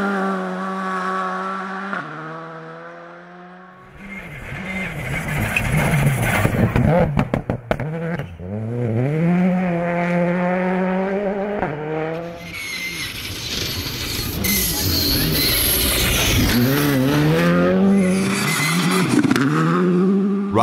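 Rally cars race at the 2023 Arctic Lapland Rally, their engines revving hard with pitch rising and falling through gear changes as they pass close by, loud and continuous.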